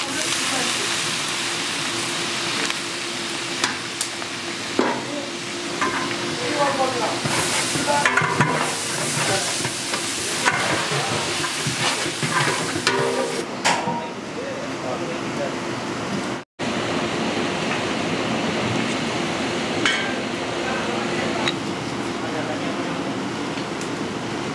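Onions fry in a pot of hot oil with whole spices for chicken biryani, giving a steady close sizzle and stirring scrapes, with voices talking intermittently over it and a brief cut near the end.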